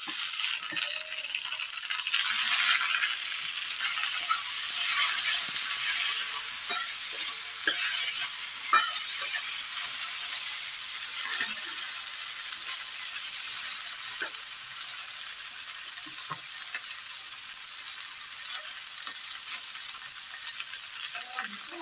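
Chopped green chili and tomato sizzling in a pan with onion, garlic and ginger for ghugni, with a steady hiss, occasional stirring scrapes and clinks, close and alone.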